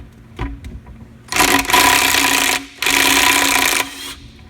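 A power tool spins a 17 mm valve out of the oil pan of a 2007-2011 Silverado 1500 with a 5.3 engine, in two loud, close whirring bursts of about a second each, after a few light clicks.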